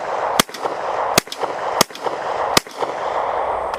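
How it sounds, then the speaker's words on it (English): A closed-bolt submachine gun fires single rounds downrange, four sharp loud reports about 0.7 seconds apart, each followed by a short echoing decay. "I've got a couple of rounds in this thing too. Let's go ahead and send them downrange."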